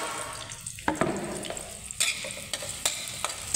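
Red chili goes into a hot pan and gets stirred with garlic for a Filipino ginataan dish, a steady close sizzle broken by several sharp scraping stirs and clatters.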